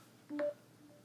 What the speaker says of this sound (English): Oops, my phone just unmuted itself